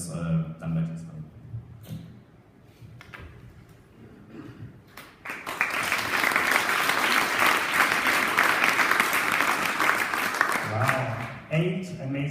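Loud, sustained audience applause at a Berlin HR hackathon for the pitching teams, rising sharply after quieter moments of talk and holding steady for several seconds before fading back to speech.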